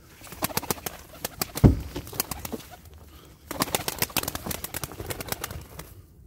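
Breeding pigeons in a loft coo repeatedly in low, throaty calls, close by, with occasional wing flaps and rustling between the bursts of cooing.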